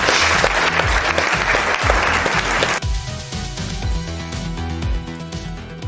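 Clapping and cheering from a small group ring out loudly at first, then thin into scattered claps as music with a steady beat takes over underneath.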